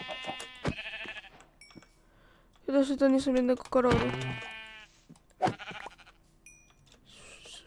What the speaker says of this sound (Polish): Słyszysz jedną owcę?